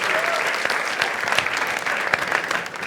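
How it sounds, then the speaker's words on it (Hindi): A studio audience applauds for Mithilesh, a winner on a comedy show, with steady dense clapping and a few cheers throughout at a loud, close level. "एक बार जोरदार ताली for Mithilesh once more"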